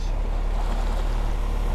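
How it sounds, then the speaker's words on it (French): Sailboat motoring at sea under engine power on a summer family cruise between Piriac-sur-Mer and L'Herbaudière, a steady low engine rumble under rushing wind and water wash, loud and continuous. "la navigation moteur, c'est pas top, hein"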